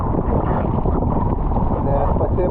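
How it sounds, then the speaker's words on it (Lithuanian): A force 4 Beaufort wind buffets the microphone in continuous gusty rumbles while kayaking on the water in western Ireland, loud and close throughout. "Šiuo metu turim 4 balų stiprumo vėją palei Beauforto skalę"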